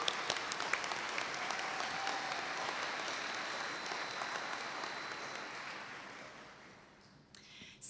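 Graduates at a fall commencement ceremony give a steady round of clapping that fades out over several seconds, ending with a faint clatter.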